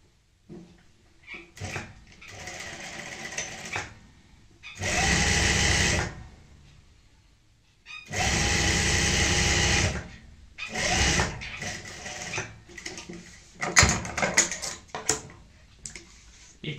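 A sewing machine stitches fabric strips for a chair cushion in several bursts of steady whirring separated by pauses. Small handling clicks and rustles of fabric fall between the runs.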